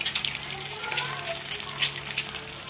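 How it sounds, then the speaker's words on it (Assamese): Crackling and spitting of food frying in a hot pan, irregular pops and hiss at moderate loudness, continuous throughout. "ধুনীয়াকৈ এনেকৈ ভাজি ল'ম"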